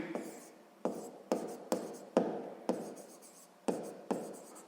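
A math formula written out by hand on paper, a series of crisp pen strokes in irregular bursts, about eight distinct scratching strokes, close and clear against a quiet background.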